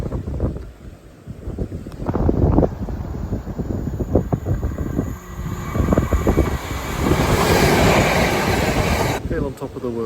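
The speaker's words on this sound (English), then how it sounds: "And there's another train coming now which I'll film." A train rolling through the Devon countryside, a steady rumbling roar that swells toward the end amid wind buffeting the microphone, with some talk early on.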